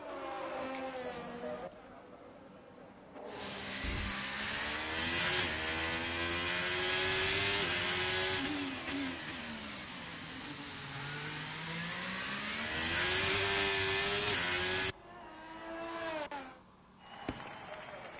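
F1 23 racing game car on a formation lap at the Singapore street circuit, a continuous engine whine rising and falling with gear changes, loud and close, with brief dips in between.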